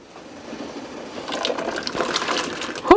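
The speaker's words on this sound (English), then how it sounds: "We're going to rinse them under cold water" Cold tap water runs and splashes into a pot of cooked potatoes being rinsed, a steady hissing gush that grows slightly louder, ending with a brief clatter.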